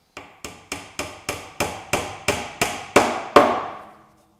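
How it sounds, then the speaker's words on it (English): Eleven sharp hammer taps drive a glued wooden dowel into a screw hole, evenly spaced and growing slightly louder, each strike ringing briefly before a short fade. "fill the hole with a piece of dowel and plenty of glue and tap it down into place"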